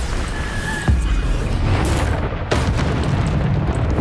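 A Bombarda spell blast in the Hogwarts Legacy video game: loud, dense booming explosion sounds with sharp bursts near one second and two and a half seconds, over a constant rumbling game mix, with no voices.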